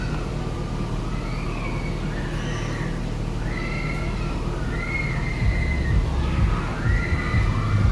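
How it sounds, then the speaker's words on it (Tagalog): A horse neighs and whinnies repeatedly, several rising and falling calls spread over the clip, heard at a moderate distance over steady outdoor background noise near a swimming area. "Ay, kabayo."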